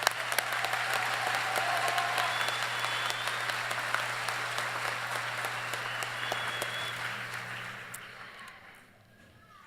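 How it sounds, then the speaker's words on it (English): Audience applause at a college fall commencement ceremony, sustained clapping from a large crowd in a hall, steady for several seconds and then thinning out and fading near the end. "I want to give you a round of applause."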